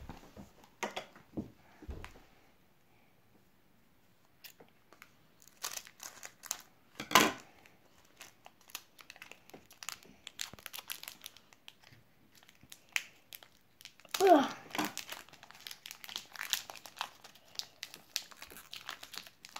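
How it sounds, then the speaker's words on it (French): Scissors snip and crinkle through a foil Pokémon card booster pack: scattered rustles, a couple of sharp crunching cuts, and quiet pauses between. "Nous allons l'ouvrir avec une paire de ciseaux."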